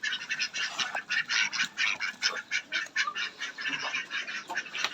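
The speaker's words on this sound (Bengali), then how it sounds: "আর হাঁসগুলো খাবারের জন্য পাগল হয়ে আসছে" Ducks rushing in to be fed, filling the air with loud, dense quacking and honking calls in rapid overlapping bursts, close by and continuous throughout.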